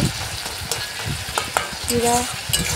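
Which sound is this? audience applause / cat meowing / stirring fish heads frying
stirring fish heads frying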